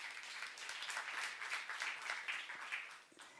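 A church youth congregation claps during a sermon, a fairly faint but steady wash of applause that fades slightly toward the end.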